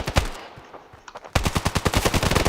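Rapid automatic gunfire in the Standoff shooter game, a short burst followed by a fast, steady stream of loud close shots, with no talk over it.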